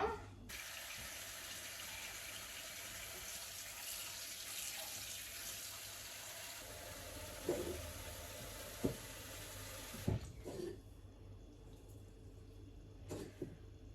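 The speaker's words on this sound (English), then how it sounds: "I'm gonna fill it with water." Tap water runs steadily into a kitchen container for about ten seconds, a broad continuous rush, then stops, leaving a few clinks and knocks in a quiet kitchen.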